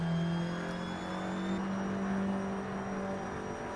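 Race cars at Spa hold a steady engine whine at speed down the straight, a continuous moderately loud drone with pitch shifting slightly as the cars pass, no talking.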